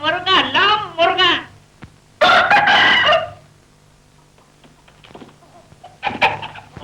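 A rooster crows in a scene from a Pakistani feature film, with two loud, drawn-out calls close by, then quieter background sounds and a brief final burst.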